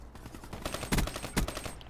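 Burst-fire shots from an RVN rifle in a shooter video game, with rapid cracks repeating in short clustered bursts and two louder volleys standing out near the middle.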